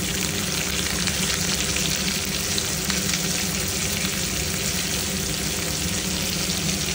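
Steady, loud sizzling of onions frying in hot oil, continuous crackle and hiss throughout with no voices.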